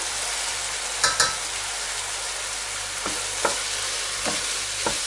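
A spoon scrapes and stirs washed bulgur through a sizzling pot, a few soft clinks and scrapes over a steady frying hiss, no talking.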